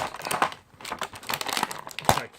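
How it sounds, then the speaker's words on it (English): A package holding a GY6 scooter variator clutch part being opened, its plastic and paper wrapping crinkling and tearing in short, close bursts, fairly quiet, with no voices. "So let's open this package up."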